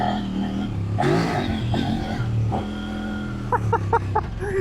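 A Kove 800X Rally motorcycle with an 800cc twin-cylinder engine revs up close in a few sharp rising bursts, then drops back toward a rough idle and gives a short stuttering series of pops at the end.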